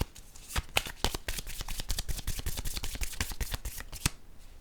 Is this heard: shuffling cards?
yes